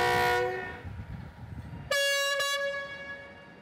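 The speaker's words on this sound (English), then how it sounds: "The powerful locomotive won't go very far today." A powerful freight train locomotive leaving Chongqing on a not yet electrified line sounds its horn: a fading blast, then a loud, sustained horn tone over rumbling train noise.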